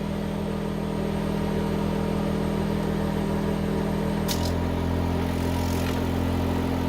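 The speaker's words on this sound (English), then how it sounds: "so I'm gonna unhook that and turn this one on" A new air assist compressor for a GweikeCloud laser engraver runs with a steady loud low-pitched drone. Partway through, a click sounds and the hum shifts to a different pitch as one unit switches over.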